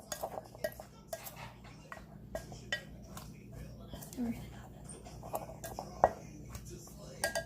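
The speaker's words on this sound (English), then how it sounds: "we're just going to mix that salt up in there" Salt stirred into pico de gallo in a bowl, giving soft scattered clinks and taps of a spoon against the dish, quiet and close, with low talk in the background.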